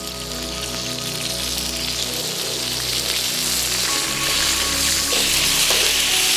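A beef fillet sears in a hot frying pan, a loud, close, continuous sizzle and crackle that swells slightly partway through as the meat is turned.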